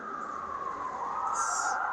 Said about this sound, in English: now I hear a siren going by